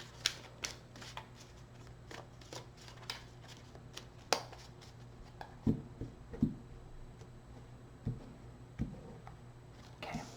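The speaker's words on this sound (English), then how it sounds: "Two more shuffles." Tarot cards shuffled by hand, a quiet sequence of soft riffles and sharp card snaps spaced irregularly, with faint low room hum underneath and no talking.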